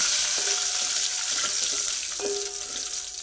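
Curry leaves and dried red chillies crackle in hot oil for a tempering, a steady bright sizzle with scattered soft pops close by and no voices.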